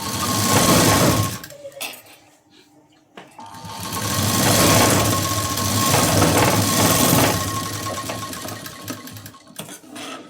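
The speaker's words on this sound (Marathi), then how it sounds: "आणि इथे मी डबल शिलाई देते" A sewing machine runs double stitching on fabric in fast, close whirring bursts, pausing briefly around the middle and near the end before resuming.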